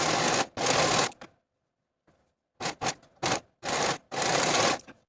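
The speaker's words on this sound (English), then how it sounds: "Now we can finish the side seam in our preferred method. I'm going to be using my serger." Serger sewing machine finishing the side seam of a shirt, running in several loud, rapid whirring bursts with short pauses between them and no talking over it.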